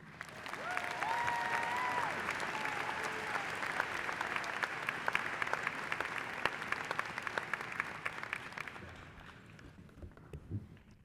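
A large audience at a 2024 community college graduation ceremony applauds in a sustained, dense wash of clapping that holds steady for several seconds before thinning out and fading near the end.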